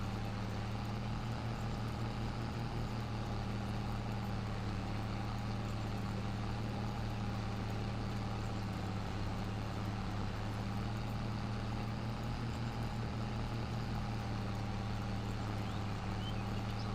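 A tractor engine in the video game Farming Simulator 22 runs with a steady, droning low rumble that holds an even pitch and loudness for the whole stretch, with no talk over it.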